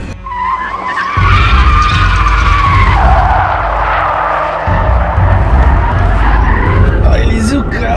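A Rolls-Royce car drifts with tires skidding in a loud, sustained screech lasting several seconds, engine roar underneath, with voices briefly audible at the start.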